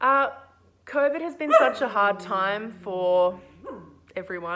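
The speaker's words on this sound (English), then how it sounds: "Excuse my dog." A pet dog barks and whimpers indoors near a person speaking, short yelps and whiny cries cutting through and overlapping the talk.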